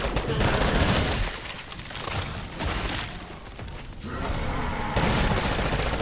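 Dense, continuous gunfire from a Black Ops 6 zombies match, loud bursts overlapping with a few breaks and shifts in intensity, and little talk.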